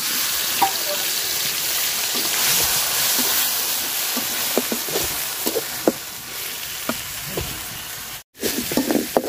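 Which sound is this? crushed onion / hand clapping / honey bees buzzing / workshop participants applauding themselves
crushed onion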